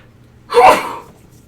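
A single short sneeze bursts out once, close and fairly loud, during a live miniature-painting show, with a quiet background before and after.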